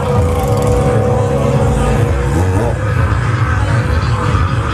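A car engine drones loudly and steadily, with a pitch shift partway through as the gear changes, from inside the car.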